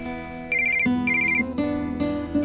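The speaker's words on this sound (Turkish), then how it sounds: "Telefon sesi mi? Benim telefonum." A phone ringtone plays a repeating electronic melody, loud and close, cycling through several bursts with no voices over it.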